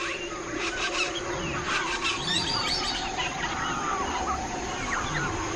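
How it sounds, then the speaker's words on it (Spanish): Dense rainforest chorus of birds, frogs and insects, a continuous loud wall of buzzing, trilling and calling with no pauses. "Es sobrecogedor el espectáculo sonoro que producen juntos las aves, los anfibios y los insectos"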